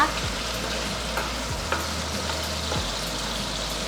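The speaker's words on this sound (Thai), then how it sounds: "การผัดอาหารสไตล์จีนนี่ส่วนมากจะใช้กระทะเราใช้ไฟแรงผัดนะคะ" Steady loud sizzling of chicken, shrimp and noodles stir-frying over high heat in a well-oiled wok, with occasional scraping clinks of a utensil stirring, no voices.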